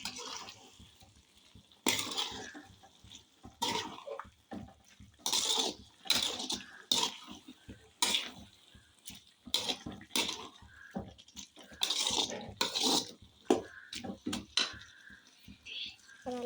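Turmeric powder is sautéed in a pan while a spoon scrapes and clatters against the metal in repeated irregular strokes, with a person speaking between them.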